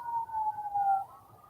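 A distant siren wails faintly outdoors on a sunny day, its single steady tone sliding slightly lower before it fades.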